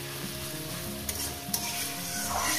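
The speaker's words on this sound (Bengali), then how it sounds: "এইভাবে একটু খুন্তির সাহায্যে একটু এইভাবে করে দিলে" Chicken bharta frying in a pan and stirred with a spatula: a steady, close sizzle with a few light scraping taps of the spatula against the pan.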